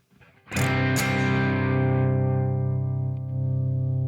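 An electric guitar rings through a distortion pedal with its parallel mix knob and level cranked. One struck chord, quickly re-hit, becomes a thick, buzzing, sustained drone that slowly fades.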